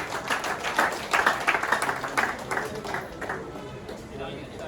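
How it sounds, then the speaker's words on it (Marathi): At a Baliraja Sena party office-bearer meeting, a crowd claps for a newly appointed official: a burst of fairly loud, scattered applause that thins out and fades after a few seconds. "जोरदार टाळ्या गोवाकरसाठी"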